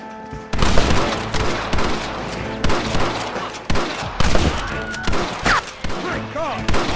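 Rapid volleys of gunfire in the video game Red Dead Redemption crack loudly and repeatedly in a close, chaotic burst of shots, with shouted voices mixed in.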